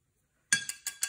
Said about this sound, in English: Rinse my brush off.